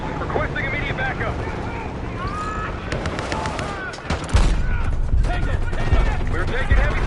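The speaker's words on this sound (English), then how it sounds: "We've got gunfire to the right." Gunfire in Call of Duty Black Ops 6 amid a desert battle over dunes, scattered sharp shots and bursts under constant wind-like roar, with voices talking throughout.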